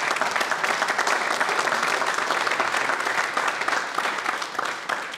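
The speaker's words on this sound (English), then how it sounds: "can we give Jack a round of applause for this?" Audience applause for a guest named Jack at a talk with Silver Star recipient Jeff Struecker, dense continuous clapping from a large room that holds steady throughout.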